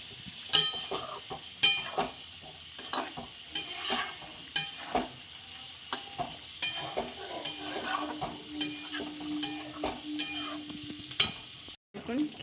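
Cashew paste gravy with yogurt frying in oil in a pan, with a soft continuous sizzle and repeated scraping stirs and light clinks of a spoon against the pan.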